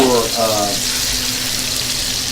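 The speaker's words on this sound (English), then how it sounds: "go to the pan and start searing our rabbit" Rabbit searing in a hot pan, a steady broadband sizzle with a brief voice at the start, continuing evenly and fairly loud.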